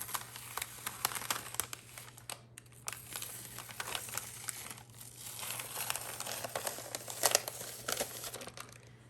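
Transfer tape being peeled slowly off a shirt after an infusible ink design is pressed with a Cricut Joy, giving soft close crinkling and crackling with small ticks throughout.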